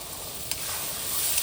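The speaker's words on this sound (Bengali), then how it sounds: "চলো এখানে সর্ষে লঙ্কা বাটাটা দিয়ে দিই" Mustard and green chili paste hitting hot oil in a pan while cooking puti fish, giving a continuous close, bright sizzle with a brief stir or scrape partway through.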